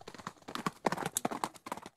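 Horses gallop in a fast, close clip-clop of hooves, a dense irregular patter of sharp hoof strikes with no voices over it.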